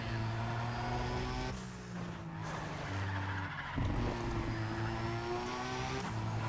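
Nissan R34 race cars in Need for Speed ProStreet, engines droning and shifting pitch as they run close together, with gear changes and a brief tire squeal, steady and loud throughout.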